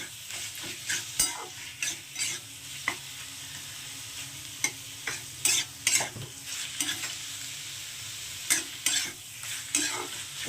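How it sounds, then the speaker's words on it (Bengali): Fried brinjal and spinach stir-fried together in a pan, a soft continuous sizzle punctuated by repeated sharp scrapes and clinks of the spatula at an uneven rhythm. "বেগুনটাকে দেখুন সঙ্গে একটু এখন ভাজা ভাজা করে নেবো"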